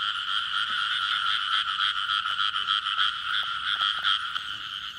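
Small frogs call at night in a Vietnamese field, a dense, steady chorus of rapid high croaking trills, close and continuous with no voices.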